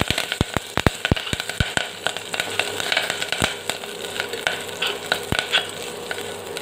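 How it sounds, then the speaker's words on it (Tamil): Curry leaves crackle and sizzle in hot oil, sharp pops coming quickly at first and then thinning out over a constant frying hiss. "அந்த கருவேப்பிலை வந்து அந்த எண்ணெயில் வெடிக்கும்."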